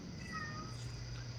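A cat meows outside a window, faint and distant, a few thin drawn-out calls over a steady low background hum.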